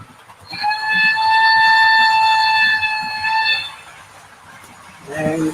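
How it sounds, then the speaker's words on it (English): A train whistle sounds in one long, steady, multi-tone blast lasting about three seconds, fairly close and loud, followed by a brief second short toot, with faint rail noise and a voice in the background. "Give a whistle."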